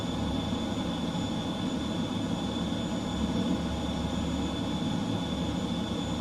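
Steady, droning roar of an F-15C jet engine in Microsoft Flight Simulator 2020 during a low-level Mach Loop flight, a constant broadband rumble with thin tonal whines, held at even loudness throughout without talk.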